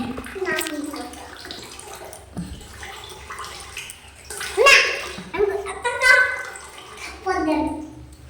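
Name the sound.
washing something with running water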